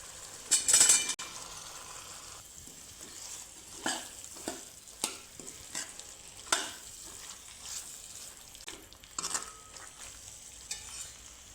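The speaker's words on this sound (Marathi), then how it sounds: "आता यामध्ये आपण शेवगाच्या शेंगा टाकून त्या पण मसाल्यामध्ये छान प्रकारे मिक्स करून" Masala with drumstick pods sizzles in a pan for a village-style shevga rassa, a soft continuous fry under repeated scraping and clinking stirs, close and fairly quiet with no voices.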